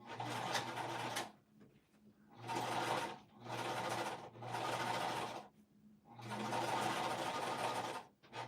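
Sewing machine stitching the exterior seam of a fabric pouch in four bursts of rapid mechanical whirring, separated by short pauses.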